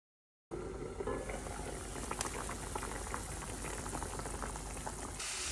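A pot of hilsa fish curry bubbles and simmers steadily as its water reduces, with a dense, close bubbling and soft popping that continues without a pause.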